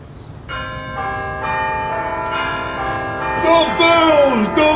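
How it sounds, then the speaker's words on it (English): Several bells peal together, their long overlapping tones layering and swelling louder and denser toward the end, with no voices over them. "The bells! The bells! The bells!"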